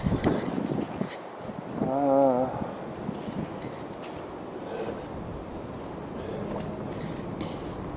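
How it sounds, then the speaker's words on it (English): Breezy outdoor wind blowing steadily against the microphone, a continuous rushing roar that swells briefly before settling, with a faint tonal sound partway through. "it's a little breezy, but it's not bad at all"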